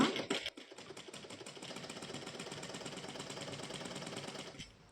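A sewing machine stitching blouse lining fabric runs in a steady, even mechanical whir after a few brief knocks at the start, fairly faint and close, then stops near the end.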